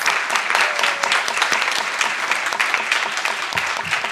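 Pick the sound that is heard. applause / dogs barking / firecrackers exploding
applause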